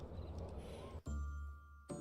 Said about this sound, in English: Daddy says Bazella will come out if I ring the bell